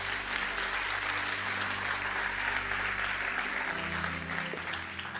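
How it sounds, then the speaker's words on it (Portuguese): Applause from a church congregation at a Sunday-style service, a steady dense wash of clapping filling the room for several seconds, with a low sustained organ or keyboard tone underneath. "Dê o melhor aplauso que você pode dar ao Senhor."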